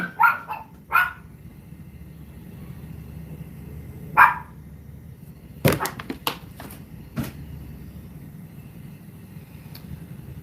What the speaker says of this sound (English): Another dog, a Pomeranian. She walks out of the room and just barks.